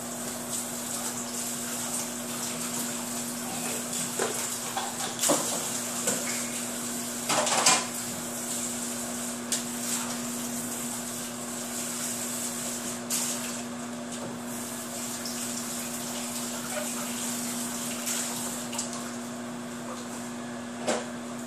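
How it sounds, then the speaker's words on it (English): A microwave rice cooker being scrubbed in a kitchen sink with water: continuous soft scraping and sloshing with scattered clinks of plastic and dishware, one louder clatter in the middle, no voices. "I like to scrub it in the sink."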